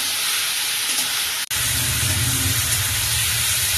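Taro stem curry with fried shrimp sautéing in a pan, giving a loud, steady, close hiss and sizzle that cuts out for a moment before resuming.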